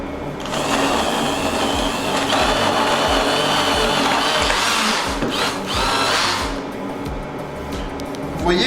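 A blender whirs steadily as it emulsifies melted Valrhona chocolate with cream for a pastry recipe, its motor droning loud and continuous for several seconds, with a brief dip in pitch midway before it runs on.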